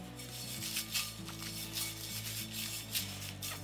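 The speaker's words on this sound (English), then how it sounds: "I'm going to pop over to the stove and toast these" Dried chilies and spices toasting in a pan on a stovetop give off a steady, close dry rasp and scrape as they are stirred and shaken, with a low continuous hum underneath and no talking.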